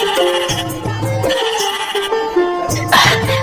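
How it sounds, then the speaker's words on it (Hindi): Sheep of a fine breed, brought to a king's court, bleat repeatedly in short wavering calls, fairly loud and close, with a brief burst of noise near the end. "ये भेड़ें तो बड़ी ही अच्छी नस्ल की लग रही हैं।"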